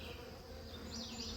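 Honey bees from a rescued hive buzz steadily and close by, a dense, continuous hum with a few higher whines of individual bees passing near.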